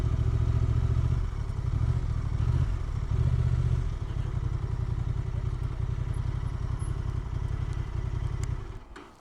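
Several Honda Transalp 750 adventure motorcycles rumble loudly and steadily at close range, the engine drone holding strong throughout with brief swells before fading out at the very end.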